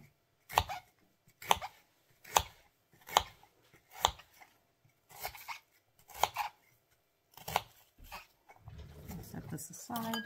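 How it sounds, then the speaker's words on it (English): A knife dices a white onion on a cutting board with crisp, evenly spaced chops, roughly one a second, close and clear. The chopping gives way to a softer rustling scrape at the end. "Then I'm going to dice the onion up."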